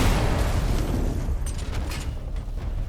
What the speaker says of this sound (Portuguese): Canhão.